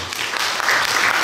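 A hall audience at a Lions Club of George Town charter anniversary ceremony bursts into steady, dense applause, a continuous loud wash of clapping hands with no voices standing out.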